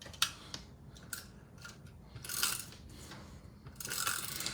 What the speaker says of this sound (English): now I'm going to go ahead and use my Tape Runner XL on the back